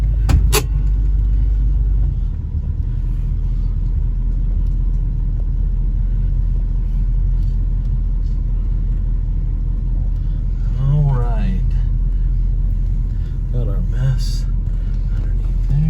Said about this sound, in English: let's go ahead and put her into reverse and take her for a little spin.